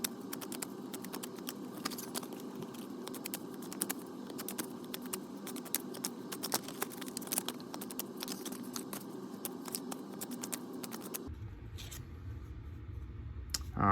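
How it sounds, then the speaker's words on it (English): Rapid, dense papery riffling and soft card slaps continue steadily, a close tarot deck being shuffled over and over before the sound stops abruptly near the end. "I am going to shuffle the deck"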